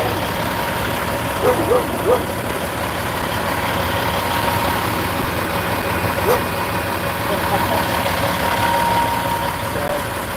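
Big rig trucks idle in a parking lot, a continuous low diesel rumble filling the scene with a few brief knocks and clanks, while someone talks over it.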